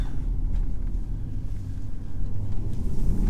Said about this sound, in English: Instant response from that engine.